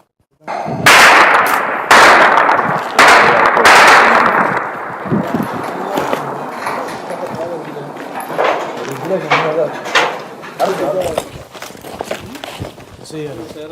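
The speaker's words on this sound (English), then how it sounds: "we're now being ushered away after hearing very close gunfire" Several loud, sharp cracks of close gunfire ring out in quick succession near a front line, followed by people talking as fainter bangs and clatter continue.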